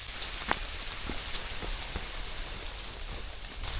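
Steady rain falls through a forest in Denmark, a dense hiss of drops pattering on leaves and ground, with a few sharper nearby drips standing out against the constant wash.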